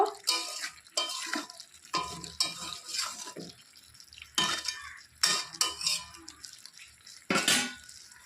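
A metal lid clatters off a pot and a spoon scrapes and stirs goat meat curry, with sharp intermittent clinks and scrapes separated by quiet pauses, close up.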